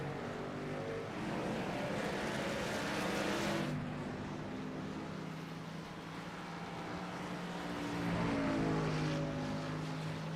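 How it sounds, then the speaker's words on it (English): A racing truck engine drones in fuel-save mode in a sim racing game at Watkins Glen International, a steady, moderately loud hum that rises and falls gently with a shift in pitch partway through. "But that just sounds like a truck that's in fuel safe mode."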